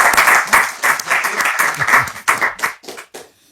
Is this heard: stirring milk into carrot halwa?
no